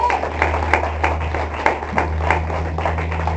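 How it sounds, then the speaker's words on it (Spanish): Worshippers in a church clap in a loose, rhythmic pattern, roughly two claps a second, moderately close over a low steady hum. "Denle un aplauso al Señor."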